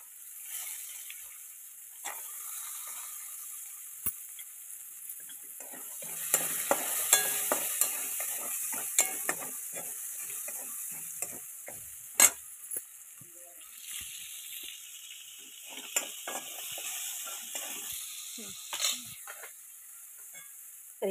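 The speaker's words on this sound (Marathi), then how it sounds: "आता हरभरं ह्याच्यातच भाजून घेते आता मी" Fresh green chickpeas roasting in a pan, a low crackling sizzle with sharp intermittent clicks of a spoon against the pan, fairly quiet overall, a dog barking faintly in the background.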